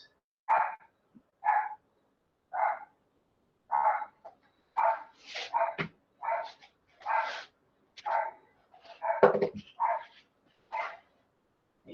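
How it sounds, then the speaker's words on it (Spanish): A dog barks repeatedly in a steady series of a dozen or so clear, fairly loud barks, with a couple of higher yelps mixed in, heard alone without talk. "Y si el perro se calla"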